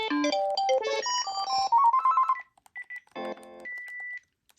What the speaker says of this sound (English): This ringer is perfectly loud.